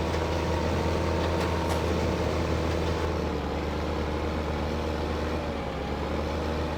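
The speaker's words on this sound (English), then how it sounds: "Come on, tractor. You can make it up the hill." A tractor in Farming Simulator 15 labours up a hill, its engine a steady, continuous low drone with a constant rumbling hum and no talk over it.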